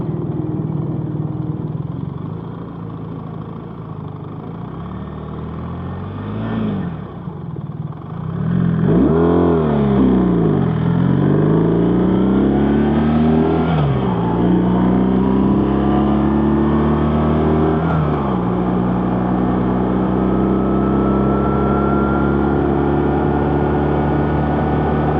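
An RT police motorcycle on a test ride, engine loud and close, easing along at first and then accelerating hard through several rising gear shifts before settling into a steady cruise.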